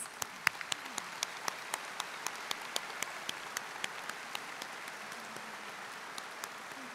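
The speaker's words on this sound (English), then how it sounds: "Join me in applause, please." Audience applause at a 2014 university commencement, a sparse, steady pattern of individual claps ringing out at a distance across a large space for several seconds, with no voices over it.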